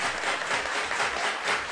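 A home crowd at an Amsterdam Mohawks PGCBL championship baseball game comes to life, a dense wash of cheering and applause that stays loud and steady throughout.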